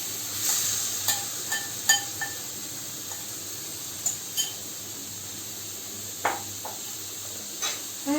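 Marinated baby shark pieces landing in a hot kadai of oil for a spicy shark curry, with a steady soft sizzle and scattered sharp crackles and stirring scrapes, fairly close and without talk.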